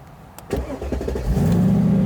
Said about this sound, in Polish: Podnosimy klapeczkę, mamy przycisk engine start